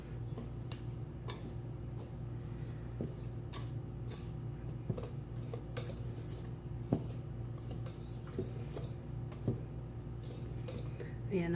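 A spoon or whisk scrapes and taps around a bowl while sugar and other ingredients are stirred together for ube pandesal dough, a steady soft rubbing with small clinks, close by over a low background hum.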